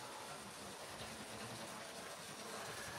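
A 2003 Hornby Castle Class model steam locomotive runs along its track, giving a steady faint rolling rumble and hiss with no voices.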